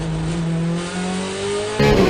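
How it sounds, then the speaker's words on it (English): Naturally aspirated V8 race car engine in a racing video game at Monza, a loud, steady high-pitched drone holding its note through a corner, then jumping to a harsher, fuller roar near the end, with no talk. "You can hear that naturally aspirated V8 just sing down the corners of the Temple of Speed."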